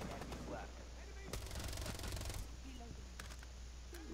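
A Vector submachine gun in Rainbow Six Siege fires a rapid automatic burst of about a second mid-clip, fairly quiet, with game ambience and scattered clicks around it.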